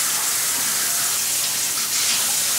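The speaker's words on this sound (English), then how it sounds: "you can wash your hair in the tub" Water runs steadily into a bathtub for hair washing, a loud, close, even rushing hiss with no breaks.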